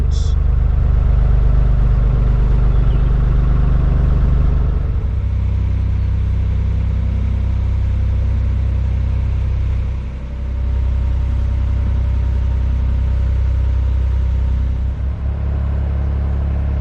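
An old engine drones loud and close in a steady, low rumbling run with a small dip partway through, and a brief voice is heard beneath it.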